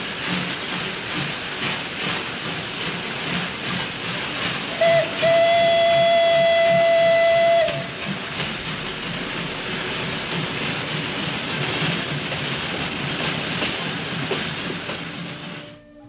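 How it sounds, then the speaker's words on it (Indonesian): An 1895-model steam locomotive hauling a coal train toward the port at Padang, with a continuous rumble and clatter of rolling wagons and a long, loud steam whistle blast partway through, close by with no talk. "Terlihat sebuah lokomotif model 1895 yang setiap hari mengangkut batu bara menuju pelabuhan di Padang."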